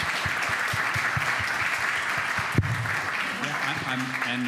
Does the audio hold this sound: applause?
yes